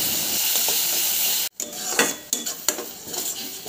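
Spice paste of onion, ginger-garlic and tomato with salt, turmeric, chilli, cumin and coriander powders frying in a pan, a dense sizzle that cuts out briefly, then returns with several metal stirring clinks and scrapes.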